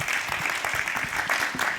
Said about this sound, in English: Big round of applause as well